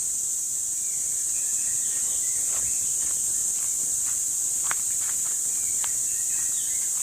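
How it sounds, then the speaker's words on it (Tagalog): Crickets shrill in a jungle forest along a walking path, a loud continuous high-pitched drone filling the background, with scattered footsteps and faint bird calls beneath it. "medyo pasensya na kayo sa ingay ng kuliglig"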